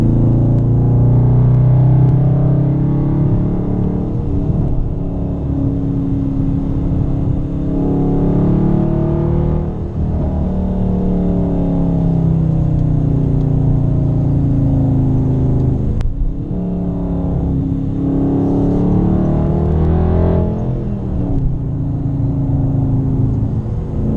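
A 2018 Dodge Charger R/T Super Track Pack engine pulls hard on a highway on-ramp, a loud, steady mid-range roar with rising and falling harmonics as it accelerates through gears, heard from inside the car with no talk.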